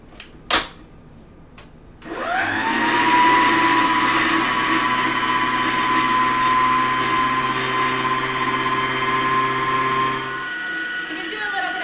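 Electric mixer beating cookie dough made with white and light brown sugar, starting abruptly after a couple of clicks and holding a loud, steady motor whine for about eight seconds before cutting off.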